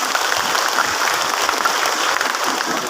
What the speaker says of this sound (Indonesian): Tepuk tangan untuk panitia.